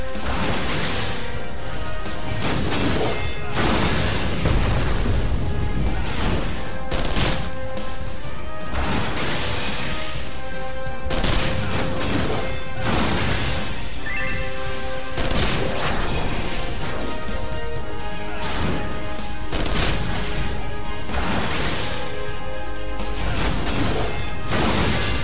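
Cannon fire and explosions in Final Fantasy XIV's Castrum Meridianum battle, loud repeated booms and crashes layered over continuous game music and effects.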